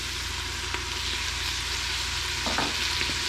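Celery is dropped into a hot soup pot for potato soup and stirred around, giving a dense, loud, steady sizzle with a few soft scraping strokes near the end.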